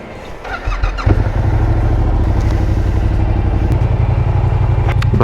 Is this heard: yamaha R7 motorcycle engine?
yes